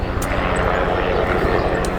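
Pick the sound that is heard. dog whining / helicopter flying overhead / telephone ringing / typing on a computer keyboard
helicopter flying overhead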